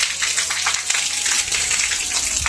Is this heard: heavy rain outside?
yes